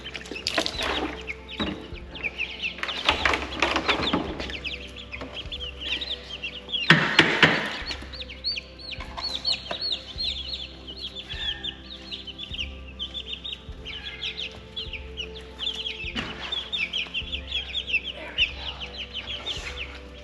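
Young Cornish Cross chickens cluck steadily throughout, several birds close by with overlapping calls and occasional louder squawks.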